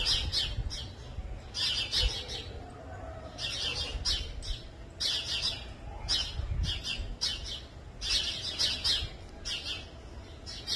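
A sparrow chick caught by a white ani gives repeated high chirps and squawks in irregular bursts, close and fairly loud over a constant low background.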